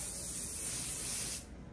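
Hairspray hisses in one steady, close, loud burst onto a show poodle's coat during a spray-up, cutting off sharply near the end.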